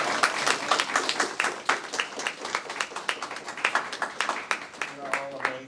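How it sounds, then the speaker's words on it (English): Audience applause for an alumni panel, many hands clapping in a dense, steady, moderately loud patter that runs throughout, with a voice starting to speak near the end. "Please join me in giving a round of applause"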